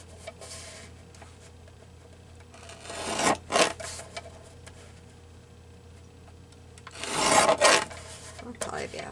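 Paper being trimmed around a card image for a collage greeting card, heard as quiet rasping cuts in two short bursts, the second longer, over a faint steady background hum.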